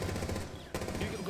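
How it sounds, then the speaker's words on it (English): Rapid automatic gunfire from a shooter video game fires in a continuous burst, stops for a moment and then resumes, loud and close. "Shawk's shooting a Casper right now"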